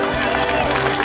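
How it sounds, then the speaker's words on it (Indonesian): Clapping and crowd noise from residents gathered at a community performance in Saleko, Bima, a steady dense wash of hands and chatter throughout. "Tepuk tangan."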